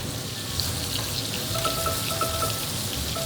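Pork chops sizzle steadily in a hot pan, a constant crackling hiss with no talking.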